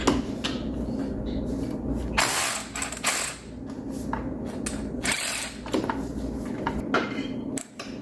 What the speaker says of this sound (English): Well, actually, I'll just loosen this bolt.